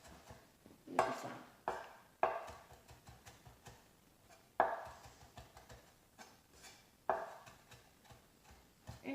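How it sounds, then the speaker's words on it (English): A knife chops peeled ginger finely on a board, with quick soft taps in bursts and a sharper thump opening each run, close and quiet, no voices. "we're left with this skinless piece of ginger, and then we want to chop that really fine"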